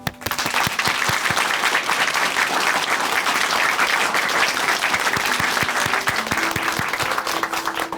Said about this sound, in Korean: 온 힘을 다해서 박수로 함께 응원해 드리겠습니다